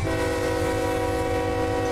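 A heavy 28,000-ton coal train in the Run 8 Train Simulator game rumbles steadily, with a sustained horn-like tone over a pulsing low engine drone, loud and continuous, as slack runs in through the cars.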